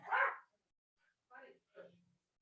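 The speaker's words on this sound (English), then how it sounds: "As the doorbell rings and my dog goes crazy" A house dog barks at a ringing doorbell in a home office: one strong bark, then two shorter, quieter yaps.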